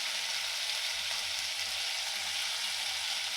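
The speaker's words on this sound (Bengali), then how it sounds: "আলুগুলোকে আমি একটু হলুদ দিয়ে ভালো করে ভেজে নেব" Potato pieces fry with turmeric and a little salt in a kadai, giving a steady, close, even sizzle throughout.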